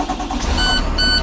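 A school bus engine cranks and catches during a pre-trip safe start, a loud, brief, close rumble lasting barely over a second.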